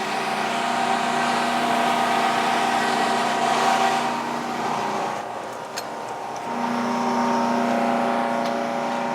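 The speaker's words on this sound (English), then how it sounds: "Chevy V6 operating on wood gas." A Chevy V6 engine runs on wood gas from a gasifier, driving a generator that produces three-phase electricity. It makes a steady, loud, close mechanical drone with a constant low hum, dipping briefly midway before settling back to the same even note.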